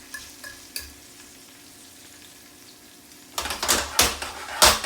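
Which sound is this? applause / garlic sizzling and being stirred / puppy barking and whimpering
garlic sizzling and being stirred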